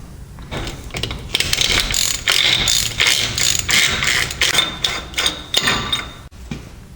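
A special socket works a spanner nut loose on a Ford F-150 or Bronco 4x4 front axle, producing close, rapid ratcheting clicks and metallic knocks in uneven bursts.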